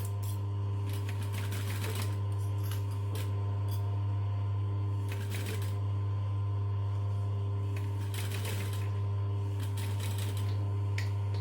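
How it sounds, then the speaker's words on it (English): A sewing machine stitching close along the fabric edge of an eye sleep mask, its motor humming steadily with bursts of rapid needle clatter that start and stop in short runs, near and loud, with no talking. "now I'm just going to stitch as close as I can to that edge without running off"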